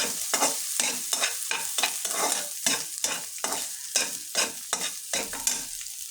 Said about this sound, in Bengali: আমি এখন শুটকি মাছটা ভালোভাবে ভেজে নিতেছি পেঁয়াজের উপর।